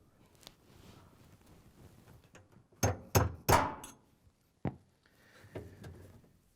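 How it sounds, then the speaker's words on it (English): A hammer taps a flathead screwdriver to drive a clutch clip onto the shaft of a GE washer clutch assembly, a few sharp metallic knocks in a quick cluster followed by a couple of lighter taps, close by with no talk. "we're going to use a flathead screwdriver and a hammer to tap it on so it goes on all the way."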